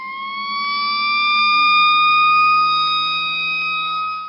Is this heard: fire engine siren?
yes